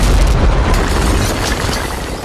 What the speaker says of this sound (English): when the buildings explode